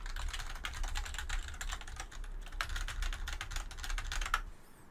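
Computer keyboard keys are pressed in quick clusters of clicky taps, close and fairly quiet, over a low background hum, with a brief pause in the middle.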